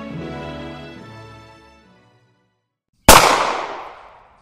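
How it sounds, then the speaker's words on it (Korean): A single sharp gunshot sound effect cracks out loud and close in a historical radio drama, following a fading musical tone and a moment of silence, then decays quickly. "경교장에서 총소리가 울렸다"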